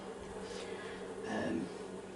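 Dense, continuous buzzing of a small four-frame honeybee colony of about 5,000 bees heard up close, a steady droning hum that swells slightly partway through.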